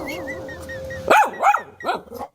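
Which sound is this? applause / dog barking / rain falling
dog barking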